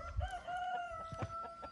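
A rooster crows in a long sustained call inside a chicken coop, with softer clucking and hen noises around it, fairly close and clear with no talking.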